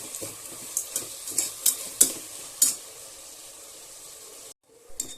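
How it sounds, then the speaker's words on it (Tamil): Tomatoes with salt stirred in a hot pan for mutton kurma, a rhythmic series of spoon scrapes over a soft sizzle, about half a dozen strokes before it falls quiet, then a brief clatter at the end. "உப்பு சேர்த்து நல்லா கிளறி விட்டுக்கோங்க."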